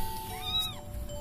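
A cat giving birth to kittens lets out a single short, strained meow that bends upward and then falls. It is fairly faint over a low background hum.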